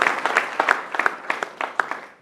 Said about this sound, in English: And therefore, a big hand to Suman and his team.